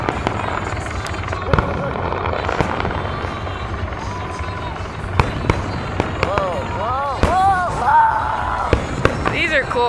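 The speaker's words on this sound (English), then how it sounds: "These are not normal fireworks." Fireworks burst repeatedly at a Fourth of July display in Washington DC, sharp loud bangs and whistling crackles over a steady crowd murmur, with people talking excitedly nearby.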